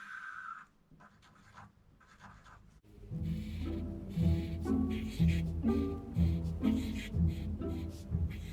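A pencil outlines a drawing with soft, close scratching strokes at first; after a few seconds loud music comes in and largely covers the scratching.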